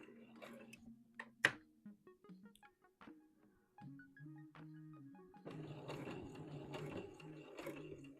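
A domestic sewing machine stitching a Vogue V2000 DVF wrap dress runs in short, start-stop bursts of mechanical whirring and ticking, then settles into a steadier, louder run, close up with no talk.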